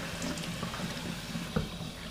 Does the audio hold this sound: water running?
yes